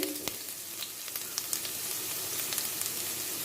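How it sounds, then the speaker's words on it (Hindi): Chopped garlic and ginger frying in a pan for crispy chilli chana, a steady soft sizzle and crackle throughout with a few faint clicks, no voices. "ये लहसुन चॉप करा हुआ, और ये अदरक डाल देंगे चॉप करी हुई"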